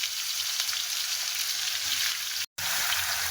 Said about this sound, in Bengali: এবার উপর থেকে আমটা দেবো আস্তে আস্তে।